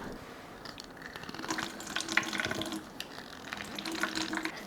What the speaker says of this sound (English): Next, we're gonna need the juice from 1 lime.